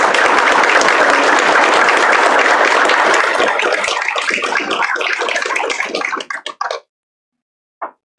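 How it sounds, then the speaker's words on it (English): A room at a college signing day event breaks into warm applause for a student, many hands clapping loudly and steadily before tapering off into a few scattered claps and a brief final clap. "let's give Miss Jessie a round of applause"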